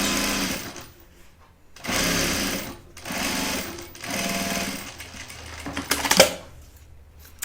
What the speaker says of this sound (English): with a 1/4 inch seam and kind of slightly tugging your binding, you're gonna sew it on